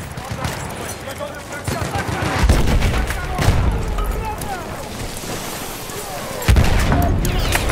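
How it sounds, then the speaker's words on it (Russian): Enemy machine gun fire in a WWI shooter on the Volga river, with a Lewis gun in play: bursts of gunfire and heavy blasts over wind and water noise, with game voices calling out throughout. "Вражеский пулемет!"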